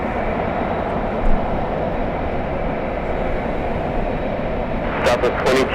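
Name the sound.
Delta Boeing 767-400 jet aircraft at LAX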